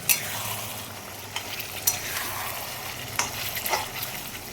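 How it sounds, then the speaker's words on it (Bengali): Potatoes and spice paste frying in a pan for a curry, a continuous close sizzle punctuated by several scraping stirs of a spoon across the pan. "আলু দিয়ে কষিয়ে নিলাম"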